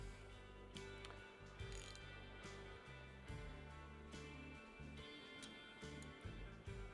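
Ratchet wrench loosening bolts on a Harley-Davidson 883cc Sportster fitted with an S&S Cycles 1200cc Hooligan kit, a quiet series of rapid clicking ratchet strokes with brief pauses, close and faint with no talk.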